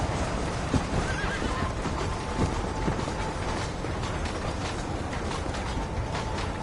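In Red Dead Redemption, a horse gives faint neighs and whinnies against a dense, steady background, with soft hoof clip-clops and creaking tack running underneath.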